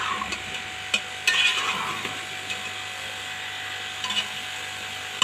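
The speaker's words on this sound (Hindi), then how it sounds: "इसके मैं 5 मिनट तक ऐसे ही अब इसको भून लेती हूँ" Kachnar buds being stir-fried in a pan, a soft continuous sizzle broken by occasional scraping and clinks of the spoon against the pan.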